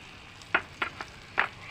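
Mourala fish dropped into a hot pan with green chillies for a spicy jhal, sending up a few sharp sizzling bursts that come in quick separate pulses over a quiet background.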